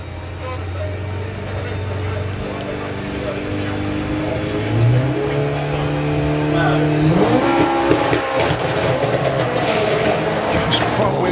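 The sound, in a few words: Mark 1 Golf drag racing car launching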